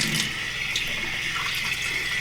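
Water running steadily as a container is rinsed out after preparing elderberry juice, a continuous close splashing flow with no break.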